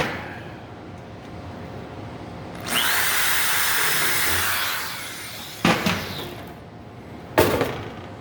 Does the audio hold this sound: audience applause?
no